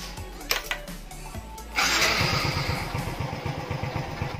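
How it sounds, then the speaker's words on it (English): Suzuki Smash 115 motorcycle engine, run on battery power, starting after a few clicks and then idling with a steady rapid putter close by, loud and alone. "umaandar na yung engine o yung makina ng motor"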